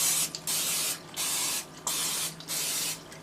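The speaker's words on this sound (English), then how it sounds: "I'm gonna give them a light spray." Four short hissing bursts from an aerosol cooking oil spray onto baking pans, each about half a second, separated by brief pauses, close by with no talking.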